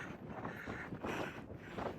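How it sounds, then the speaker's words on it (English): Strong wind gusting across the open summit of Humpback Rocks on the Appalachian Trail, buffeting the microphone in a constant, roaring rush with surging gusts and no talk. "It's very windy up here."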